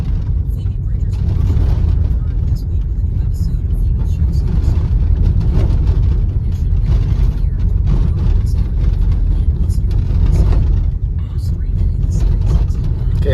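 A car drives along a rough, increasingly bumpy rural road in the Guadalupita area of northern New Mexico, with a loud, steady engine and road rumble plus continuous rattling and creaking from the vehicle throughout.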